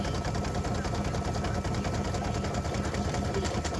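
An embroidery machine satin stitches around the tail of a breast cancer awareness ribbon design, giving a steady, fast, continuous mechanical whir with a dense rapid needle rhythm, close and fairly loud throughout with no talking.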